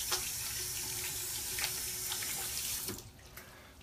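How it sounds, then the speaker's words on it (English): Tap water runs into a sink while an underarm is washed with moist vanilla soap, a steady close splashing hiss that cuts off near the end, leaving quiet with a faint drip. "I'm going to wash my underarm."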